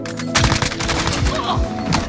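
Rapid AUG rifle fire in Call of Duty: Modern Warfare, a close, loud run of repeated shots with sharp transients filling the whole burst.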